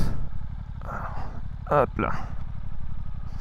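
A Suzuki GSX-S 8S motorcycle, new with few kilometres on it, idles with a steady low throb, and a brief clunk marks a shift into neutral while someone speaks briefly over it.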